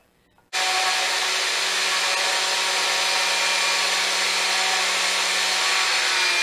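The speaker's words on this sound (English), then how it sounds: "I'm ready to do some sanding on it." Sanding on a wooden shelf made from bourbon barrel staves starts abruptly and continues as a steady, close, raspy rubbing hiss until the end.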